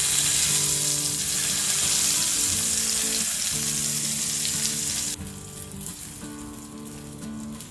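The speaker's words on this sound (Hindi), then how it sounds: "हम ये तड़का चटनी में ऐड करेंगे।" Hot oil tempering with a pinch of asafoetida sizzles and crackles loudly and steadily as it is poured into coconut chutney, the frying hiss dropping a little partway through as it settles.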